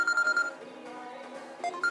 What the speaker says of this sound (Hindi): अभी नाम लिया और फोन भी आ गया।